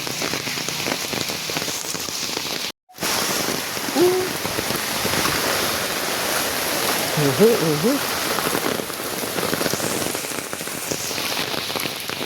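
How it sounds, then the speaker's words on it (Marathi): Rainwater running along a roadside drain during heavy monsoon rain in Vasai-Virar, a dense continuous wash of rain and flowing water that stays steady throughout with a brief dropout early on. "नशीब आम्ही नाला करून ठेवला आहे म्हणून रस्त्यावर पाणी येत नाही साईडनं चाललं आहे"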